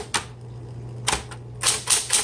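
Mechanical strikes from the tab key of a 1970s Smith Corona Electra 120 electric typewriter, several sharp clacks and carriage movement over a steady low motor hum, close and fairly loud.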